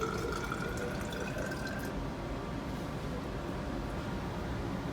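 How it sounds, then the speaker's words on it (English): Liquid solution is poured into a laboratory container, up to about 200 milliliters, with a soft, steady trickle and light splashing close by that thins out partway through. "So Ahmed, can you take that and pour a little bit into there, up to about 200 milliliters or so."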